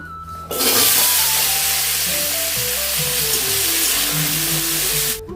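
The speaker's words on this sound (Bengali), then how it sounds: "তেল গরম হয়ে গেছে আমি আলুটাকে একটু ভেজে নেব" Potatoes hit hot oil with a sudden loud burst of sizzling that holds as a strong, even hiss for several seconds, with music playing underneath.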